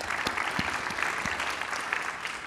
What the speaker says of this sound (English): round of applause for Nicola.